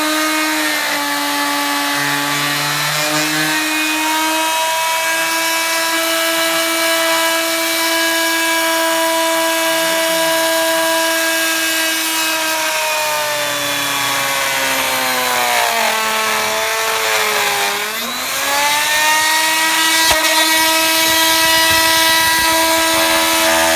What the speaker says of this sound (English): All right, so perfect example of some kickback.